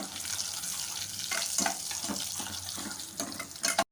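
Cumin, dried red chili and asafoetida tempering in hot oil in a pan, a steady close sizzle and crackle running throughout with a few brief stirring scrapes before it cuts off abruptly.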